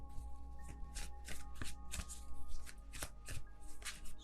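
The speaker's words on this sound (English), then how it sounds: "I'm just gonna wait until it feels right and then take out all of the cards at once." Tarot cards being shuffled by hand, a close rhythmic series of riffling, slapping bursts repeating steadily, with no talk.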